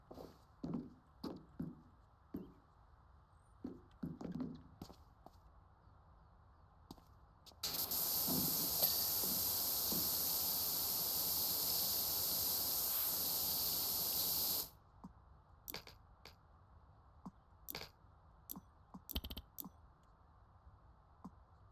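Pressure washer spraying through a 0-degree nozzle in PowerWash Simulator: a steady, loud, hissing jet that holds for about seven seconds and then cuts off, with scattered clicks and soft taps around it.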